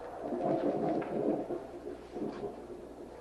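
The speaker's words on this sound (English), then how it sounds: "Does the storm disturb you?" A thunderstorm heard indoors, low rolling thunder rumbling in a couple of swells, muffled and fairly faint with no talking.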